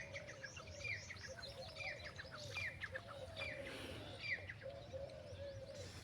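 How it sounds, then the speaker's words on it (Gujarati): Sparrows chirp in a quiet farm grove: soft, repeated high chirps and short calls at a moderate distance over a low, calm background, with no voices. "ચકલા બોલે એનો અવાજ આવે, સાંભળો તમે।"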